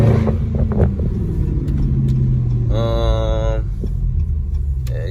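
A Dodge Scat Pack car in track mode accelerating, its engine a loud continuous rumble heard from inside the cabin, with people talking over it and a brief whine midway.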